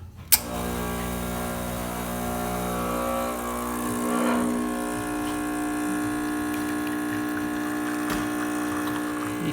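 A Rancilio espresso machine pump hums steadily while pulling a shot, a sharp click at the start followed by a continuous buzzing drone with a faint watery flow throughout.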